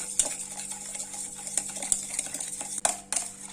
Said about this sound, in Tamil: இப்போ இதை பீட் பண்ணிக்கணும், நம்ம மிக்ஸ் பண்ணிக்கிறோம்.